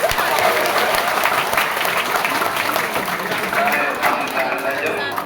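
Audience at an Islamic prayer gathering and fundraiser clapping together, a loud sustained burst of many hands with murmured voices mixed in beneath it.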